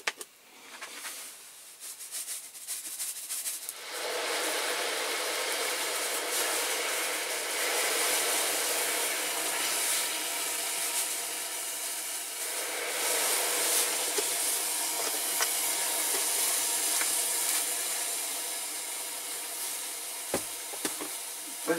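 Metal toy parts fizzing in caustic soda and boiling water, producing a loud, continuous bubbling hiss that builds after a few seconds and holds steady, close and alone, with a couple of faint knocks near the end.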